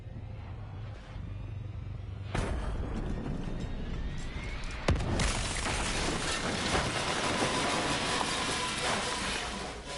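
A giant explosion erupts in a video game cutscene, a sudden loud broadband blast followed by a sustained roaring, crackling rumble that fills the rest of the sound with no talk.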